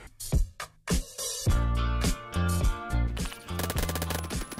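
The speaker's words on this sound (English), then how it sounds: "Where am I getting shot from?" Rapid bursts of automatic gunfire in Roblox Phantom Forces, loud, close and rhythmic, with brief gaps between volleys that grow into a sustained stream of shots.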